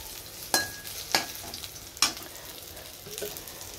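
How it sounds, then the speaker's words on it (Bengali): Bitter gourd coated in gram flour sizzles in hot oil, with a steady frying hiss and three sharp clinks of a utensil stirring the pan, all close by. "এখানে বেসন দিয়ে উচ্ছেটা মুচমুচে করে ভাজা হচ্ছে"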